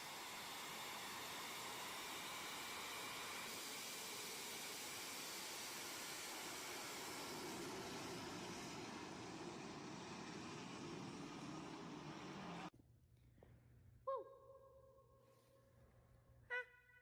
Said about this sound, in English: They decided to put a jet engine on a semi-truck.